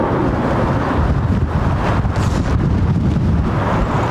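Blustery wind at London Heathrow Airport buffets the microphone in a loud, continuous rumbling roar that surges slightly and never lets up.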